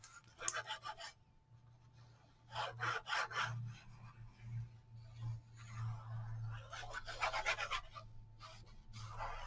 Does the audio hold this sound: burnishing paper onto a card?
yes